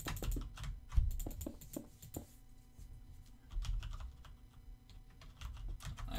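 Computer keyboard and mouse clicks at a PC during a Minecraft building session: close, uneven bursts of sharp taps and clicks, some louder than others, over a low steady hum, with no talking.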